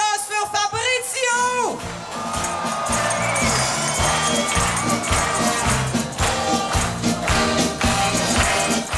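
A live audience cheers, whoops and applauds for Fabrizio look-alikes at a 2010 look-alike contest, sustained crowd noise filling the whole stretch with rhythmic clapping and shouts, rising after a brief opening voice.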